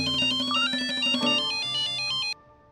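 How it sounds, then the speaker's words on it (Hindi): A melodic electronic phone ringtone plays a bright repeating pattern of tones, then cuts off abruptly. "लैब से फोन आया है।"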